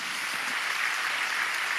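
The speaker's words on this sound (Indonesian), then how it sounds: "Berikan tepuk tangan kita untuk Tuhan kita." An Indonesian church congregation claps at an Easter service, a soft, steady patter of hands spread across a large room, heard at a distance without any talking.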